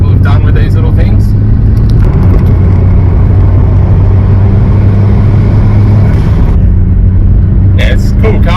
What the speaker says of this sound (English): It makes all the right little turbo noises